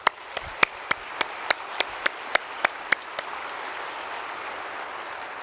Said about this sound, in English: So for them, please, an applause.